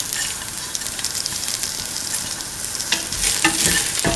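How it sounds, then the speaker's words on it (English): Red chilies and fennel seeds fry in a pan with a dense, steady sizzle, and louder stirring clatters and scrapes come near the end. "Now put in the red chili, put in the fennel seeds"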